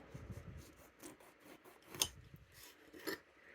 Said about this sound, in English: All right, I'm going to cut it in half.